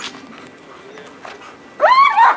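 A dog gives a loud, strained bark-whine burst near the end of a bite-training session, preceded by quieter low background noise.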